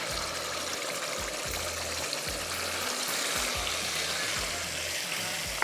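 Onion and tomato paste fries in pomace olive oil, a steady, close, even hiss of sizzling with faint low stirring thumps beneath it and no talking.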